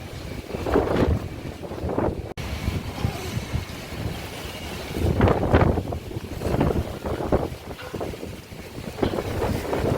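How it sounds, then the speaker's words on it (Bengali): Strong, gusty storm-like wind buffets the microphone in irregular loud surges and lulls outdoors, rumbling low and steady throughout with no voices. "কেমন উল্টো পাল্টা হাওয়া দিচ্ছে পুরো ঝড়ের মতো হাওয়া"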